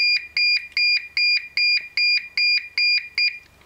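A Honeywell Galaxy alarm keypad beeps during exit time: about nine evenly spaced, sharp electronic beeps, loud and close, with nothing else heard before they stop.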